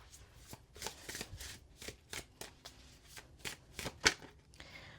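A deck of oracle cards being shuffled by hand, a quick run of crisp riffling flicks and taps in a quiet room, close and moderately loud, no talking.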